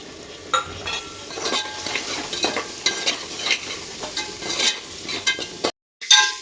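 Cauliflower with garam masala, turmeric and salt fries and is stirred in a pan, a steady close sizzle with repeated scraping strokes and light clinks of the spatula, ending in a brief silence and a final scrape.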